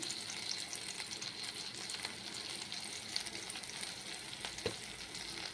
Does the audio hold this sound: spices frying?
yes